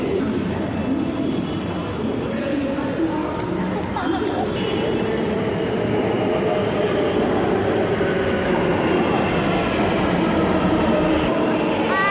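A metro train rumbles and rolls through a crowded Bengaluru metro station, with the steady drone of the carriages under crowd chatter and voices throughout.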